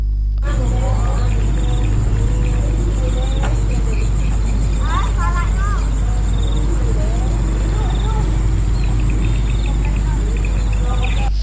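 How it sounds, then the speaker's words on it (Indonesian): Steady insect chirping, likely crickets, runs throughout under a loud constant hum, with faint bird-like calls here and there. "Ada suara jangkrik"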